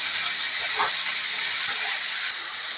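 Watermelon rind frying in oil with panch phoron gives a bright, constant hiss and sizzle, close and steady, easing slightly near the end.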